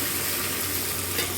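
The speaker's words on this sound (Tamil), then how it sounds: "கொஞ்சம் கொத்தமல்லி புதினா நறுக்கி கொஞ்சம் எண்ணெயில் போட்டுக்கோங்க" Chopped coriander and mint frying in oil in a pan for a pumpkin mutton dalcha, with a steady, close hiss of sizzling and no talking over it.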